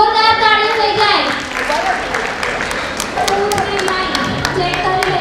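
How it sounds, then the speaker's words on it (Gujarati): At a fiftieth-anniversary gathering of a Jain women's association in Vadodara, an audience breaks into scattered, sharp hand claps in the second half, heard under a loud, amplified announcer's voice that continues throughout. "ચાલો ચાલો ચાલો જોરદાર તાળીઓ થઈ જાય."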